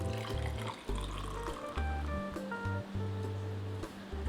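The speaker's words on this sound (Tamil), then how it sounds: "இனி நம்ம இதை கப்பில் மாற்றிடலாம்." Fresh lime juice with mint poured into two cups, a close, continuous liquid splashing and gurgling with shifting tones as the cups fill, interrupted by short pauses.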